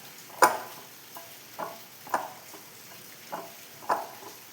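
Rice flour is stirred into a batter with a spoon, making soft wet scrapes and squelches that repeat about every second at close range. The strokes are fairly quiet, with no talking.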